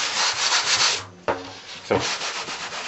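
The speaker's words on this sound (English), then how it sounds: "I can hear the drum as I'm sanding" Rough, steady scraping of sandpaper rubbed over a wooden bodhran drum frame, with a brief pause and a couple of sharp knocks between long sanding strokes.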